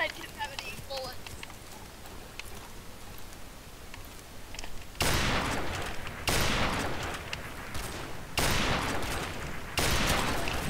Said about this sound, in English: I fired through the wall.